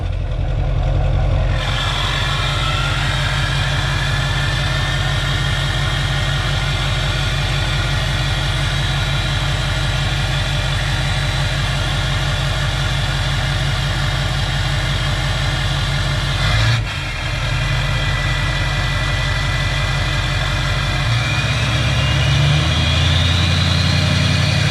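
A Duramax LLY diesel pickup engine fires up from a cold start and settles into a loud, steady idle, its deep throbbing clatter continuing unbroken for over twenty seconds with a brief dip near the end.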